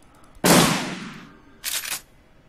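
Shotgun blasts in the Shadowrun Returns video game: a loud, close boom that rings out for about a second, then a second, shorter blast.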